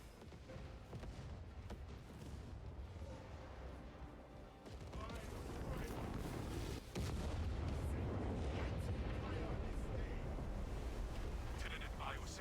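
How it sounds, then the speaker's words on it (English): A huge detonation rolls through the battlefield in Warhammer 40000: Space Marine 2, with booming blasts and heavy rumbling swelling into a loud sustained roar, crashing surges hitting midway and voices speaking over the din. "You are clear to detonate."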